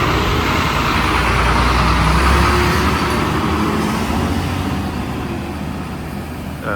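A village bus in the Konkan countryside rumbling past, its engine and road noise loud and close at first, then slowly fading as it moves away.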